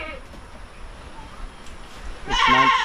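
A goat gives a single loud bleat near the end, preceded by faint outdoor background noise.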